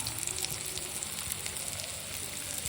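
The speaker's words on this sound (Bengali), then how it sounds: "ক্যাপসিকামগুলো একটু ভাজা ভাজা হয়ে গেছে মশলা দিয়ে দিলাম" Capsicum pieces frying in a pan with ginger, cumin, chilli and coriander added, giving a steady, close sizzle that runs unbroken throughout with no talking.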